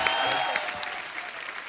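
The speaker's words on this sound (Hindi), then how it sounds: "आप सबकी जोरदार तालियों के बीच" Studio audience applauding on a TV comedy show as a guest is welcomed, a dense burst of clapping that fades a little toward the end.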